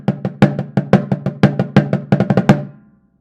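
Snare drum played with the snares disengaged, giving a dry, tom-like tone: about seventeen crisp strokes in a fast, uneven rudiment-style pattern, loud and close, with a short ring fading at the end.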